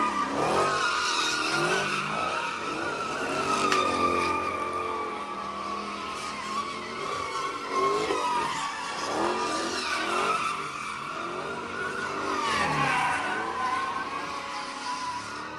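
Cars skidding through a street takeover in South LA, tires squealing in long sustained shrieks with repeated engine revs, loud and continuous for the whole stretch.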